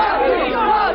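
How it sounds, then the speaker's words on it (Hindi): A large, dense crowd gathered in their thousands at Gorakhnath temple in Gorakhpur chants slogans in unison, a loud, close, continuous roar of many voices. "लोग यहाँ पर हजारों की तादाद में यहाँ पहुंच चुके हैं और योगी योगी के नारे लग रहे"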